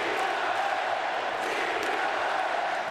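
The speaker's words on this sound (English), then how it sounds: "The crowd pumped up, hoping their screams can help end more than 20 years of Friar frustration." A packed baseball crowd at Petco Park in San Diego cheering during a Padres playoff game; a loud, continuous roar of yelling and screaming voices holds steady throughout with no break.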